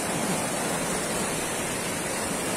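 Water runs steadily in a small stream, a dense, even rushing that stays loud and unbroken throughout, with no voices.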